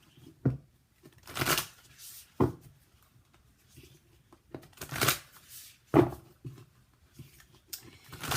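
Tarot cards being pulled and shuffled from a deck during a love reading, giving several soft, scattered bursts of card rustle and slides with quiet pauses between, close and fairly faint.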